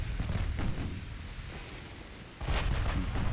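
Battleship guns fire in the naval video game Ultimate Admiral: Dreadnought, likely from a Nagato design, with two deep booming salvos about two seconds apart over a low rumbling background.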